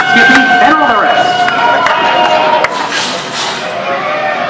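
Audience applause on Disney's Great Movie Ride, a dense crowd clapping steadily throughout with voices mixed in, loud and close, easing slightly toward the end.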